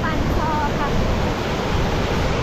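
Barun river, which flows on into the Arun river, rushing with a steady, broadband wash of flowing water filling the whole moment, close and continuous with no clear breaks.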